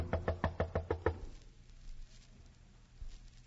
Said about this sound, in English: I knocked hopefully on his door.